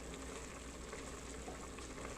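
Chicken cooking in an Instant Pot for keto Mongolian chicken, giving a steady, close bubbling and sizzling simmer that continues evenly throughout without pause.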